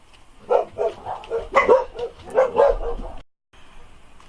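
Several excited dogs bark in quick bursts at close range, the yaps and woofs overlapping for about three seconds before a brief silence and a quieter stretch of background noise.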